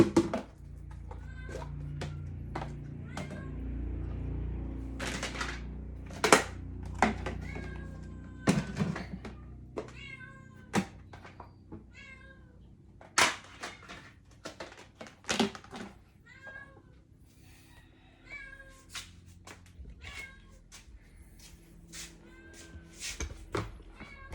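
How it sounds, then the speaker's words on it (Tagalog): Several cats meow repeatedly and noisily near a kitchen where mackerel sardines are being cooked, with short overlapping cries and occasional thumps and taps spread through a quiet room. "Mga pusa maingay."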